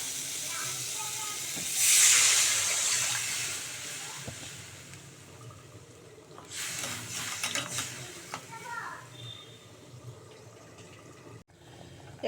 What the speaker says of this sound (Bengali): এখানে আমের চাটনিটা ফুটছে